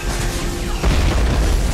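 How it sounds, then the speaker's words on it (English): Explosion in an action movie, a deep loud boom that swells partway through over a dense rumbling background. "Explosions and action sounds"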